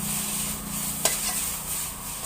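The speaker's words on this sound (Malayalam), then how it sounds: "ബാക്കിലെ മസാല ഉണ്ടാക്കുകയാണ് അതിന് കുറച്ച് ഉള്ളി വെക്കുകയാണ്" Onions sizzle steadily in a pan while masala is cooked, with a single sharp clink of a utensil partway through over the continuous low frying hiss.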